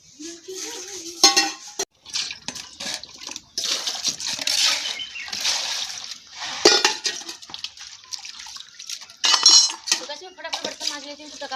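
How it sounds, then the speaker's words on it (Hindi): Pots, pans and cutlery being scrubbed and washed by hand in a village kitchen in India, with steady clinks, clanks and scraping throughout, close and fairly loud. "फटाफट बर्तन मांज लेती हूँ"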